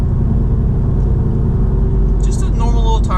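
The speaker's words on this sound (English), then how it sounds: "just a normal little tire hum" Tire hum from a leveled 2018 Silverado on 295/65 tires fills the cabin as a loud, constant low drone, and a voice starts talking over it in the last second.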